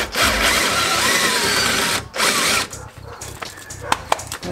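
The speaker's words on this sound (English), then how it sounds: "I'm just gonna make a small enough dimple to hold the tip of the plug cutter or spot weld cutter." A power drill bores a small dimple into brake metal to seat the tip of a spot weld cutter, running steadily and loudly for about two seconds, then cutting out and restarting in shorter bursts with a few sharp clicks.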